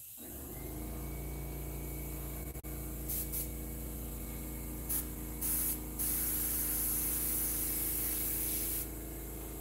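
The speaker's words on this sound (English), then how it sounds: "little bit of ink in the airbrush." An airbrush loaded with bright magenta ink sprays onto a Frankenstein mask, a steady close hiss running the whole time with short bursts of stronger spray partway through, no talking.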